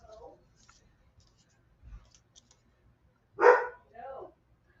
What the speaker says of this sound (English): He's been barking a lot lately.